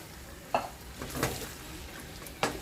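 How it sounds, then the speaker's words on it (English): Canned tomatoes tip into a pot of sizzling softened carrots and vegetables for a fish stew, bringing a steady frying hiss with a few wet splatters and stirring knocks, close and moderately loud. "So I'm going to dump in the can of tomatoes"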